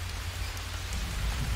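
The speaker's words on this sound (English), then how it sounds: "Obviously now is not a good time because it's raining." Steady rain in the jungle survival game Green Hell, a dense, even hiss of falling drops with a low rumble beneath, continuous and without speech.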